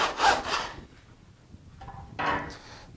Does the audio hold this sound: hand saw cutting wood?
yes